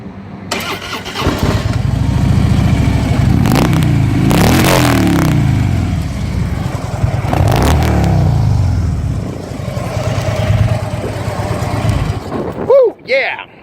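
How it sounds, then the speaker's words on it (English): A 2012 Harley-Davidson Ultra Limited with a 103 V-twin cranks to life up close, then rumbles through several throttle blips and revs before settling, with someone talking over it. "Ain't nothing sound like a Harley Davidson V-twin"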